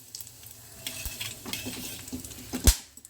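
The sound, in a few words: whole spices sizzling in hot oil: cardamom, cloves, cinnamon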